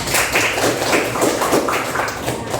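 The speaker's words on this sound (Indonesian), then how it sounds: "tepuk tangan dulu buat semuanya" A class claps along during a civics lesson, the hands striking in a quick, even rhythm at close range, loud and steady with little talk over it.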